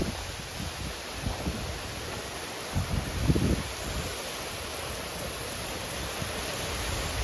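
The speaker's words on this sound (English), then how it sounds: "That's a wind gust right there." Wind gust from straight-line winds in a severe thunderstorm, with leaves blowing down. Steady broadband rushing with rustling throughout and a brief stronger swell around the middle, no voices.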